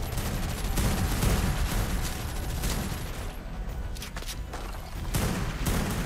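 Minigun firing in the ARK Genesis 2 video game, heard as a dense, continuous rattle of rapid gunfire in bursts with brief pauses, moderately loud throughout.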